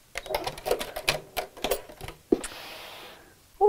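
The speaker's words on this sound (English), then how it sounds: "And I'm just going to sew that across the end." A sewing machine stitches across the end of a cord in quick, close rattling bursts, then a short steady run before stopping.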